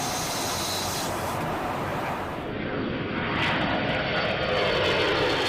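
An aircraft closes in behind a KC-135 tanker for aerial refueling, giving a loud, steady jet roar and broad hiss that swells slightly toward the end, without talking.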